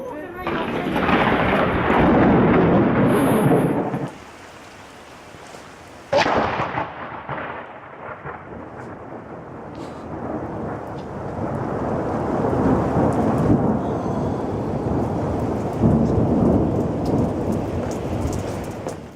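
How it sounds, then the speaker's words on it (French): A thunderstorm pours heavy rain while thunder rumbles and cracks, loud and close, with a brief quieter lull before the rain and rolling thunder build back up and continue steadily. "cette chaîne possède plusieurs jolies vidéos d'orage et de météo"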